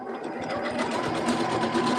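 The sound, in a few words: sewing machine sewing bubble pods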